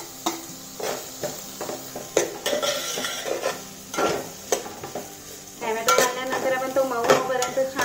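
Chopped tomato tipped into sizzling onion tempering in a pan and stirred, with repeated clatters of a spoon on metal over a steady hiss of frying, close and busy.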